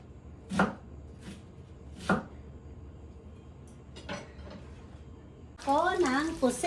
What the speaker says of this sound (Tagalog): Sabay-sabay natin hiwa-hiwain ang sibuyas, kamatis, saka bawang.